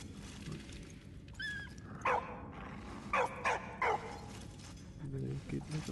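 A dog in the video game Valiant Hearts gives several short barks and yips in quick bursts, with faint whimpers between them and a low game background, fairly quiet overall.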